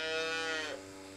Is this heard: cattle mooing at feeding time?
yes